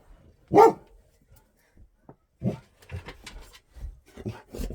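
A large adult dog barks indoors, one loud close bark followed by softer scuffling, thumps and quieter grumbling movements.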